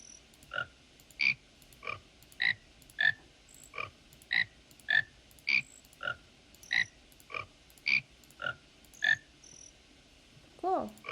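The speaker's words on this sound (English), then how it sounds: "I have a little frog symphony" Frog croaks are played back from a recording, the loud, evenly spaced calls repeating about every half second to one second for eleven seconds, with no one talking.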